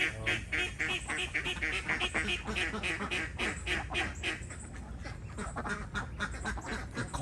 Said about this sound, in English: Those are the call ducks that are making most noise.